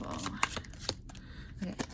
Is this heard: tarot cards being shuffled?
yes